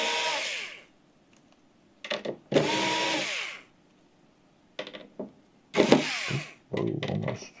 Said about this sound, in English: we're gonna take out these 4 screws